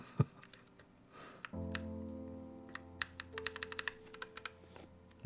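Keychron Q1 mechanical keyboard with Purple Panda switches being typed on, a quick burst of sharp, fairly loud keystrokes in an irregular rhythm, close up and alone, over a steady low hum.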